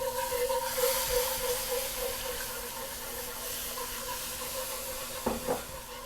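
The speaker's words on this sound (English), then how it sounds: "All right, so now I'm going to add my beef broth." Beef broth pours into a browned flour roux for Swedish meatballs, making a steady, soft hissing wash of liquid that runs throughout, with a brief clink near the end.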